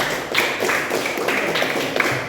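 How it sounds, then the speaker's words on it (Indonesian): Classroom applause for a student named Sira, a small group of hands clapping in a brisk, slightly uneven patter that stays fairly close and steady throughout. "tepuk tangan dong untuk Sira"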